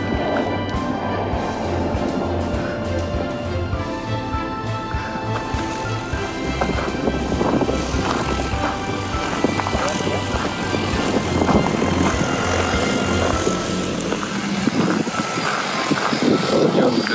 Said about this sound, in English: So we've got two drones out there right now.